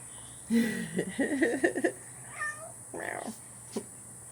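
A cat meows a few times up close, short drawn-out cries separated by brief pauses, with faint background hum.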